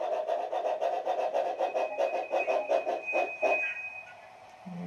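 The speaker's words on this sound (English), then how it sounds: "Nice brake squeal to that as well" Bachmann G scale two-truck Climax model locomotive: rhythmic mechanical chuffing is overlaid with a thin, sustained high brake squeal for a couple of seconds before it fades to quiet.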